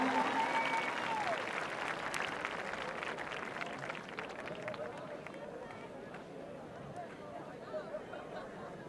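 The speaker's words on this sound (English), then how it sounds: "Applaudissements pour monsieur Jakob Schubert, third place." An audience applauds a third-place medalist at a men's lead climbing World Cup final in Briançon, steady clapping and crowd noise under an announcer's voice, fairly distant and sustained throughout.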